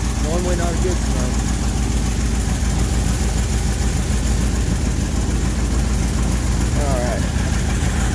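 A 1979 vehicle's engine idles steadily and close by, with hot coolant venting at the radiator cap; brief talk rises over the constant running drone.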